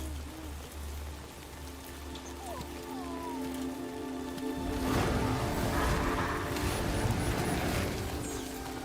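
Rain falls in the video game Death Stranding 2, a steady patter that grows into a denser, louder downpour partway through, with faint tonal game sounds underneath and no voices.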